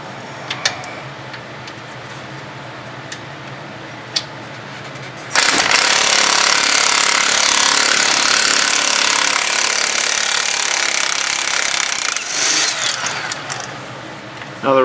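A power tool zips out Loctite-coated front hub bearing bolts on a Cadillac DTS, starting with a few faint clicks, then a loud, sustained rattling whir for about seven seconds before stopping and briefly restarting.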